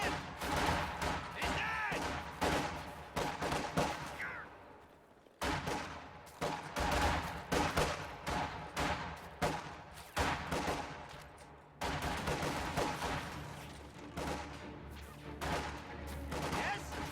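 Video game battle gunfire as grenadiers engage conscripts at long range from cover: rapid bursts of rifle and machine-gun shots, sustained fusillades with brief pauses, dense and moderately loud throughout.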